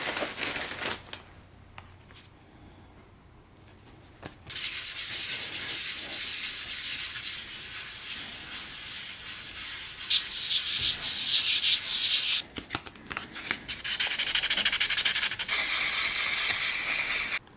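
Hand sanding a titanium badge with 800 grit sandpaper, a close, dry scratchy rubbing in sustained passes, briefly pausing near the start and again around twelve seconds before resuming more loudly.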